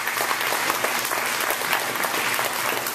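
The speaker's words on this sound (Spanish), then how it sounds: "Vamos a darle un fuerte aplauso al Señor." A church congregation in Amarillo, Texas bursts into loud, sustained applause, a dense, even clatter of many hands clapping close by for the whole stretch.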